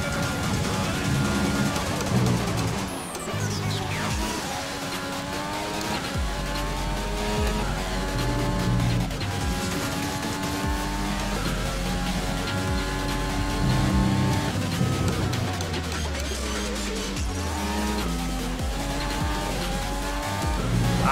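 A McLaren Formula 1 car in the F1 2020 racing game on a one-lap qualifying run, its engine screaming steadily through rising and falling gear changes, with brief tire squeal, continuous and loud with no talk over it.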